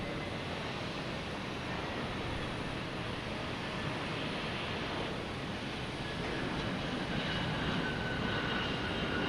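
Airliners landing at Boston Logan Airport, one after another, give a steady broadband engine roar and rumble that builds slightly toward the end, close and loud with no talking.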